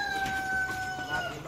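A rooster crows once, close and loud, in a single drawn-out tonal call lasting over a second with no talk.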